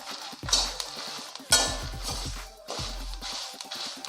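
Meat masala spices and curry leaves stir and scrape in a hot pan, three bursts of rattling, scratching strokes with faint sizzle between, close and moderately loud with no talking.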